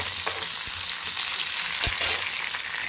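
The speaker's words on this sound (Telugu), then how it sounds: "ఆయిల్ వేసుకొని పచ్చిమిర్చి అలానే టమాటాలు అలానే రెండు ఎండు మిరపకాయలు వేసుకొని ఫ్రై చేసేసుకున్నాము ఆయిల్లో" Green chillies, tomatoes and two dried chillies fry in oil with a loud, steady, close sizzle and occasional light stirring knocks.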